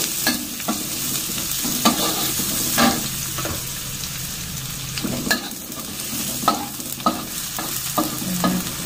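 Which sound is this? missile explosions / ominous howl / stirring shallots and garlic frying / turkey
stirring shallots and garlic frying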